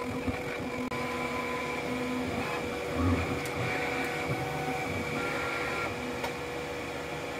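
A Bambu X1C 3D printer running a print without its AMS, giving a steady mechanical hum and whir with faint tonal motor whines and small clicks throughout, fairly quiet and continuous.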